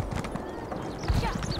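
Horse hooves clip-clopping in The Elder Scrolls Online, a close, continuous patter of in-game hoofbeats with a faint whinny-like tone mixed into the ambient game sound.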